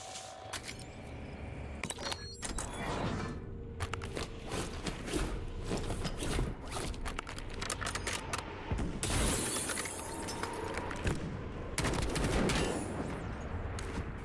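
Gunfire in a casual-mode match of the video game Warzone, with rapid bursts of shots and sharp cracks repeating throughout, loud and busy alongside clanking game mechanisms.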